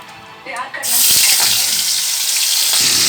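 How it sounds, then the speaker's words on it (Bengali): A sudden loud sizzle bursts in after a few soft clatters and holds steady, the hiss of food dropped into hot oil, close and continuous. "এবার কাঁকড়াগুলো ভেজে নেবো আস্তে আস্তে"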